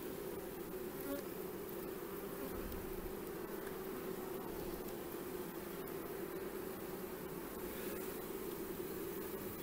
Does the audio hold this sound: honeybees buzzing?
yes